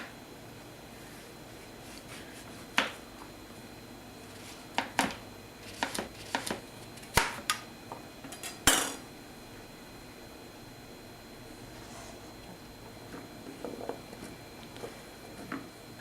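A knife chops through squash on a cutting board in a kitchen, giving a scatter of soft, irregular thuds and taps over a faint steady background hum.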